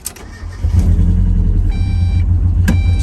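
A Mazda Miata's engine fires up and settles into a loud, close, steady low rumble, with a short sharp click near the start and another brief sharp noise later.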